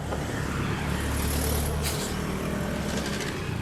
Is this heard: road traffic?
yes